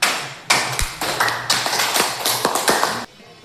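Students in a classroom clap their hands in a short round of applause, a series of sharp, close bursts that stops abruptly after about three seconds.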